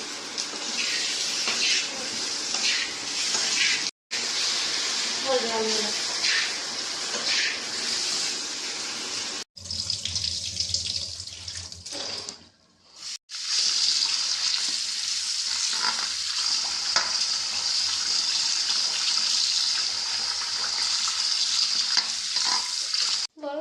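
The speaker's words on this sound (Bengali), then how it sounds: "আমরা এখন ভাজবো বিরিয়ানির আলু।" Potatoes for biryani fry in a pan with a steady, close hiss and sizzle, broken by a few short pauses and faint stirring clatter.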